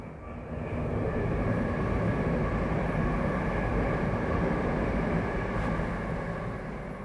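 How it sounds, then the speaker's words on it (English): A train passes below a footbridge with a steady, loud rumbling roar that swells in within the first second and holds for several seconds before easing slightly, with no talking. "I saw a train coming."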